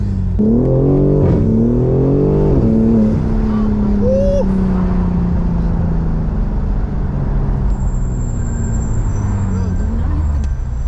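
A 2022 BMW M4's exhaust rumbles loudly and steadily with deep engine tones, shifting in pitch as it revs, while a voice briefly exclaims over it.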